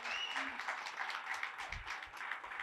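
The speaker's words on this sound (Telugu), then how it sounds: "సో మరి ఎండి గారు వచ్చారు కాబట్టి గట్టి చప్పట్లు." Audience applause breaks out in a marketing team meeting at a real estate firm as the managing director arrives. The clapping is steady and dense, fairly soft, with scattered voices mixed in.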